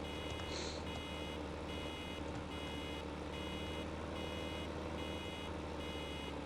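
A vehicle's reversing alarm beeps steadily in Farming Simulator 15, roughly six evenly spaced high tones over a constant loud engine drone.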